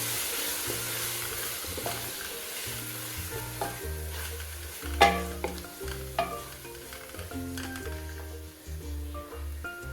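Tomatoes sizzling in a hot pan with spices, stirred by a spatula in repeated scraping strokes over a constant frying hiss, close and busy, with occasional clinks against the pan.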